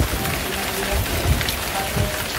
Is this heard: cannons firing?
no